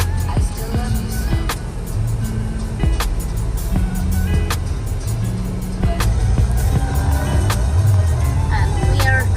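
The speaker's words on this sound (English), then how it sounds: "we are driving towards Mostar" A car drives along a road in Bosnia toward Mostar, its steady engine and road rumble loud and continuous throughout, with a few brief clicks and knocks over the top.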